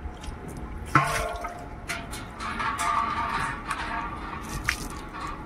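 Water splashes and trickles as an earthen pot is rinsed on the outside, with a sharp knock near the start followed by steady irregular sloshing and dripping at close range.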